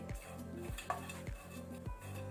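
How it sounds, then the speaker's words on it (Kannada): Dry prawns dry-roasting in a pan over a low flame. A utensil scrapes and stirs in four regular sweeps, giving rhythmic metallic scraping close by with a faint background hiss and no talking. "ಫ್ಲೇಮ್ ಲೋ ಅಲ್ಲಿ ಇಟ್ಕೊಂಡು ಡ್ರೈ ಪ್ರಾನ್ಸ್ ಅನ್ನು ಡ್ರೈ ರೋಸ್ಟ್ ಮಾಡ್ಕೊಳ್ಳುವ"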